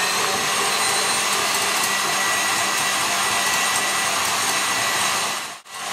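Electric mixer with whisk attachment beating Italian meringue for macarons at full power, a steady loud broadband whir with no voices, cutting out abruptly near the end.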